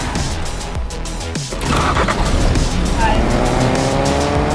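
A car in Fortnite's August 2020 update, its engine rising into a loud steady roar after a short pause, with tires squealing and skidding, while a player talks excitedly over it.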